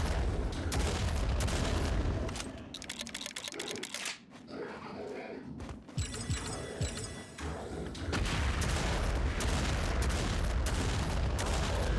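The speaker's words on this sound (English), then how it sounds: "This is a good rocket launcher." Rocket launcher fire and explosions from Project Warlock II crackle and thud through dense, loud game action, with several heavy blasts clustered around the middle, no voices.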